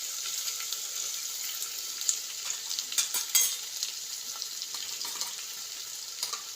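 Spices frying in a hot pan, a close, continuous sizzle with scattered stirring clicks and scrapes, no voices over it.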